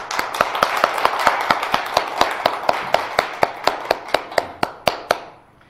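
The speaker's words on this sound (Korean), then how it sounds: "여러분이 한번 박수로 격려해 줬으면 좋겠습니다" A church congregation claps in a steady unison rhythm, about twenty sharp, evenly spaced claps that stop abruptly, with no talk over them.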